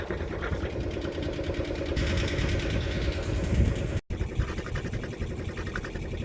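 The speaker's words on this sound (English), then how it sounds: "So just got the engine running, got the seacot working" The forty-year-old diesel engine on a Snapdragon 24 boat runs with a steady, loud, rhythmic chugging, with a brief dropout near the end before it continues.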